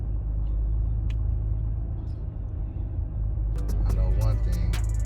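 Road traffic around a car in heavy traffic: a steady low rumble of engines and passing vehicles, with brief higher clatter near the end and no talk.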